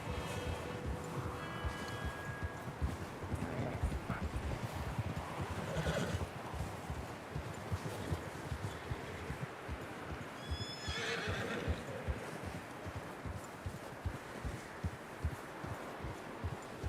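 Horses in the game Red Dead Redemption 2 whinny loudly while hooves clip-clop in a steady rhythm under a continuous outdoor rustle.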